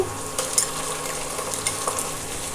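Cumin paste and garlic paste frying in a hot pan, a close, steady sizzle with a few sharp scrapes of a spoon against the metal and no talking.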